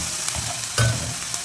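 About 2 grams of cumin seeds fry and sizzle in hot oil in a pan while a potato masoor dhal is being cooked. The crackle is soft and close, with a brief stirring clatter near the middle, and nobody speaks.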